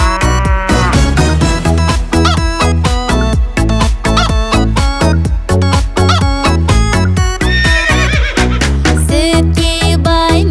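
A cow moos within an upbeat children's song about farm animals, the low drawn-out call sitting amid loud, densely rhythmic music near the end.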